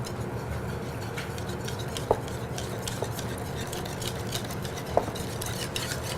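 A starch paste for mushroom gravy is whisked in a bowl, giving a soft steady scraping with a few sharp clinks of the whisk against the side.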